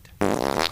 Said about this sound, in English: somebody took his shows and took that stuff and just inserted fart noises in the best places